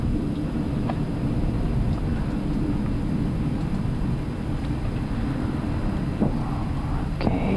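An Etihad Airbus A380 at Abu Dhabi during takeoff gives a steady, broad engine roar heard from inside the flight deck, and one voice speaks briefly over it.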